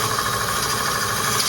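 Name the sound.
wood lathe spinning while gouge cuts stabilized wood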